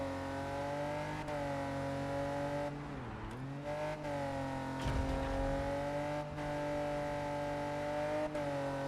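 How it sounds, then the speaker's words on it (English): A race car engine drones and shifts pitch as it accelerates through the turns of a track session, a steady tonal hum rising and dipping, with a brief tire squeal near the middle. "you can listen to the engine and say, hey, you can hear if it's struggling or if it's accelerating quickly"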